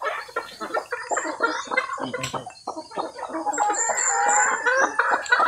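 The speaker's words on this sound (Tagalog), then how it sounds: "yung asawa ko yung dumakip sa isang manok" Chickens cluck and squawk in rapid, agitated bursts close by on a farm as one is caught, a busy stream of fowl noise with no talking.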